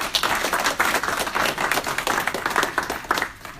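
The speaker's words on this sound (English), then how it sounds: "so give him a big round of applause" Audience at a business presentation clapping, a lively scattered patter of many hands with irregular bursts and taps, fairly close and steady, no talking on top.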